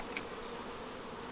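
Honeybees buzz softly around syrup in a hive-top feeder, a faint steady hum with one brief closer buzz.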